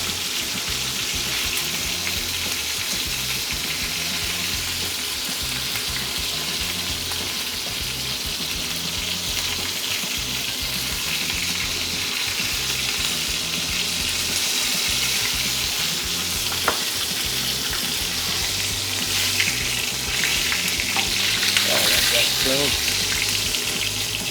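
Steak fries in a hot pan with a loud, steady sizzle and crackle, while utensils scrape and shift the meat as it is turned, and faint voices sit low under the frying.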